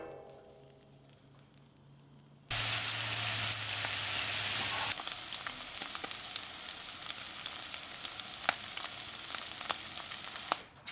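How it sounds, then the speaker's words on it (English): Meat is browning in melted butter in a pan, a steady close sizzle and frying hiss with scattered sharp pops. It starts abruptly after a quiet hum and continues without any talk. "melt 2 tablespoons of butter in a pan, and we want to start to brown that meat"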